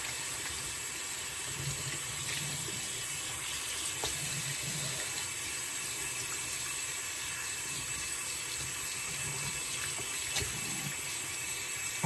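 Warm water runs steadily from a tap into a sink for rinsing, a continuous soft hiss and splash lasting several seconds with only faint background sounds.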